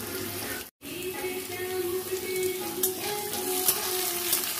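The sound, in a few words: potatoes frying in a pan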